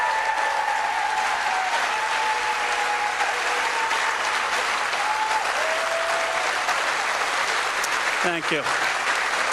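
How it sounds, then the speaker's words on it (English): Crowd applause at a political campaign rally for a Senate candidate, a dense continuous wash of clapping that runs throughout while a voice speaks briefly over it near the end. "Let's give him a round of applause."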